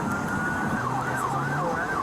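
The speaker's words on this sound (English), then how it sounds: "Changing the tone on your sirens." A wailing police siren sweeps up and down continuously, loud and near, over the rumble of a moving vehicle on a highway.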